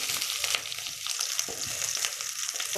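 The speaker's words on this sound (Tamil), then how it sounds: "பெரிய வெங்காயம் போட்டுக்கலாம்." Onions fry in hot oil for tamarind chutney, a close, steady sizzling hiss with small crackles throughout.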